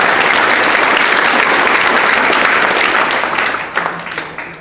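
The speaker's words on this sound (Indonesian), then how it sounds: "Tepuk tangan untuk kita semua" An audience at a school visit event gives loud, sustained applause that holds strong, then thins out and tapers near the end.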